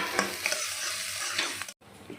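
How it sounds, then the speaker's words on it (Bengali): Rice frying in ghee in a pan, stirred with a spoon: a soft continuous sizzle with a few scraping strokes, briefly cut off before resuming. "চাল ভাজা হয়ে গেছে এখন নামিয়ে নেব"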